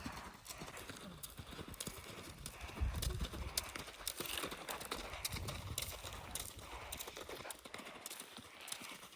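A pony's hooves clip-clop steadily on a hard surface, close by and fairly loud, with occasional snorts, shuffling and a few low voices in the background.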